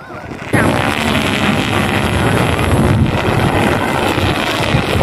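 Strong, steady wind roars around five flying sport kites across the whole clip after a sudden onset, loud and close, with broadband gusting buffeting.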